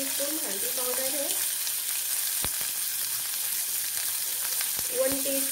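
Onions, tomatoes and spices including turmeric fry in a pan over a low gas flame, giving a steady soft sizzle throughout with brief stirring scrapes near the start and end.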